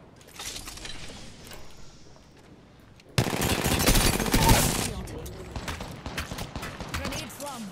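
Video game gunfire with the player under fire: scattered shots at first, then a sudden loud burst of rapid automatic fire followed by continuing sporadic shots.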